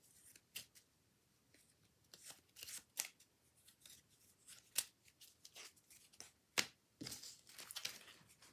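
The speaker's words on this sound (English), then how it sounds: "I'm going to have my spectator Nicole just shuffle up these decks and then put them face down" Playing-card decks shuffled by hand during a card trick: a quiet series of soft, irregular riffling and snapping bursts with pauses between them, no talking.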